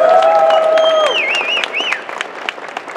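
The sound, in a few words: round of applause for cosplayers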